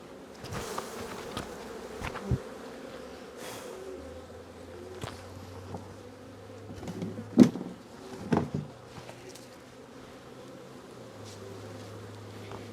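Honeybees buzz in an open beehive, a dense close-up hum with individual bees droning loudly past the microphone, over faint handling noises.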